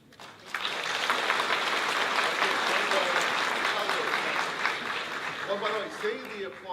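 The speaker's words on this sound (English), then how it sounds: "save the applause for the last question" Audience at a Wisconsin governor candidates forum bursting into sustained applause that holds steady for several seconds, with a voice speaking over it as it fades.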